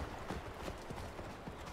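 Horse hooves galloping in the video game Far Cry Primal, a steady, dense clip-clop of hoofbeats running close and loud with no talk over it.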